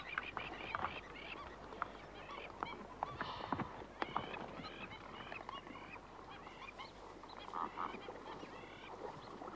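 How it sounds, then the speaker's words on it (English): Plovers call in noisy defense of their nest at an African waterhole, a continuous chorus of sharp, repeated shrieking cries, fairly close and loud, overlapping with other wildlife and hoof-like clatter. "Plovers are courageous birds. They stand their ground against all comers, spreading their wings and cursing in defense of their nest."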